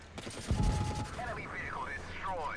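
The FVE Defender tank in WoT Blitz fires a rapid burst of autoloader shots, a quick cluster of loud gunfire bursts followed by warbling game effect tones.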